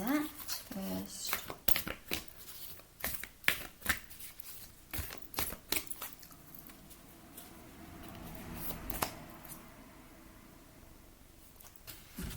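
Akashic Record oracle cards shuffled by hand, a run of quick, close riffling bursts and soft card slaps in an irregular rhythm over roughly twelve seconds, with a quiet pause toward the end.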